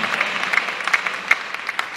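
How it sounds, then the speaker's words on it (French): Steady applause from a church congregation, dense clapping with a few sharper claps standing out, fairly close and continuous throughout. "l'acclamation peut être plus forte à Jésus"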